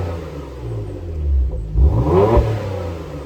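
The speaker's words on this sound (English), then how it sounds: "let's pop it in sport and open the valves on the exhaust" A 2018 Porsche Macan GTS in sport mode with exhaust valves open, idling close by with a deep burble before two quick throttle blips swell into a raspy rev and settle back.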